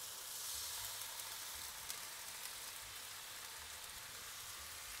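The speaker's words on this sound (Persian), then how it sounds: "آروم این سس رو بریزید." Teriyaki sauce poured gently into chicken frying in a hot pan, giving a steady, dense sizzle like light rain that holds evenly throughout, close and with no talking.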